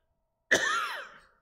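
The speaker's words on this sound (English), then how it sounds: "I hadn't coughed all morning." A single sharp cough from a man leading a Bible study, loud and close, standing alone against silence and trailing off in about a second.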